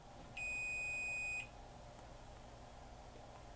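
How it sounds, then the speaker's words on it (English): A multimeter gives one steady electronic beep, about a second long, during a diode check on a bridge rectifier in a speaker amplifier board, heard over a low background hum. "I guess I should do a diode check on the bridge rectifier right here."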